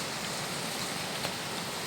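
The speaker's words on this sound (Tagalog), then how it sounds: "So, napakaingay talaga. Dahil nga sa ulan." Steady rain falling in the Minecraft video game, an even, dense hiss of drops holding constant at moderate volume for the whole stretch, with no voices.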